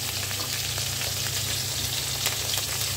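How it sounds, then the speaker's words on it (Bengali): Bottle gourd greens with dried fish and spices fry in a pan, a continuous close hiss of sizzling oil with soft stirring scrapes and no voices. "মশলাটা একটু এর সাথে ভেজে নিচ্ছি।"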